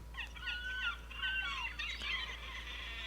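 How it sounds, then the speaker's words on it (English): Seagulls call from a distance, a layered chorus of shrill, repeated cries added as a background sound effect, steady and fairly loud with no talking. "here's the other seagulls."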